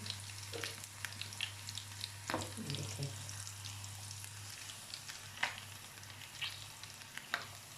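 Cumin and chillies sizzle steadily in hot oil, a constant crackling hiss with sharper pops, and a voice briefly speaks.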